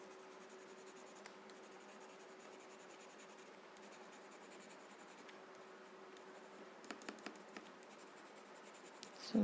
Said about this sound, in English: you will have to use a pencil.